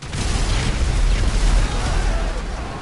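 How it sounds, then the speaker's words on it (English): Fireworks bursting in a PS4 video game give a dense, continuous roar of overlapping booms and crackles that stays loud throughout. "so we're gonna watch the fireworks."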